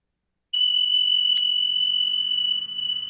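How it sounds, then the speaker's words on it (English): A meditation chime is struck twice in close succession, its clear metallic tones ringing out and sustaining slowly as they fade in an otherwise quiet room. "One chime, let go."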